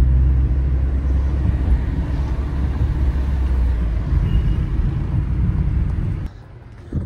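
Car driving along toward a parking spot near the shrine in Qom, Iran, a loud steady low engine and road rumble that cuts off sharply near the end as the vehicle stops.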